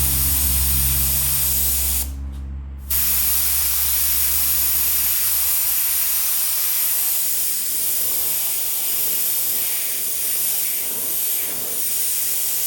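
An airbrush sprays paint steadily onto a smoke skull design, darkening between the eye sockets, giving a loud, continuous close hiss with only a short break early on.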